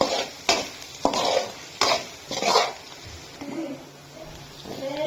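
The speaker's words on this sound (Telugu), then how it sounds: "కరివేపాకు వేసుకున్నా బాగా కలుపుకోవాలన్నమాట దీన్ని." Curry leaves are stirred into chicken curry masala frying in a pan. Several distinct scraping spoon strokes come in a loose rhythm over a low sizzle, close-up, with no voices.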